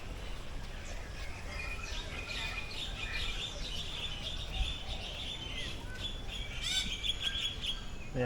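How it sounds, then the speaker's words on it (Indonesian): Many birds chirp and call together inside a park aviary at TMII, a dense, steady chorus of overlapping tweets and whistles heard at moderate distance with no talking. "Banyak banget burung."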